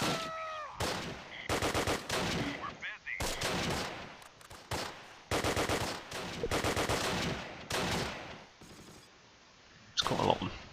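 Gunfire hitting a tank in the war game Close Combat: Last Stand Arnhem, with repeated bursts of machine-gun and rifle shots in clusters, moderately loud, with short pauses between volleys.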